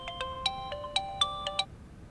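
A phone ringtone plays a bright, melodic sequence of electronic tones in a Hindi TV drama scene. The tones are sounded clearly and evenly for about two seconds, with no voices over them.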